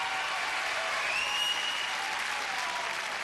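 A television arena crowd at a 1992 Gladiators final claps and cheers in a sustained, dense wash of applause, loud and even throughout, with a faint whistle rising in the middle.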